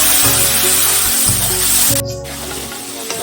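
Spice paste with cashew is sautéed in a pan for a potato-cauliflower dish, giving a loud, close, steady sizzle and scraping with low rumbling under it and a brief gap partway through.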